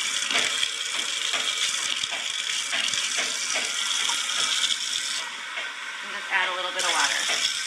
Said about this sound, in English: Is she going to use water straight out of the tap?